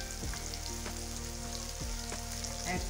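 Tomatoes and spices sizzling in a pan for an aloo matar dish, a continuous close frying crackle with a few sharp utensil taps and clinks, quiet overall and without speech.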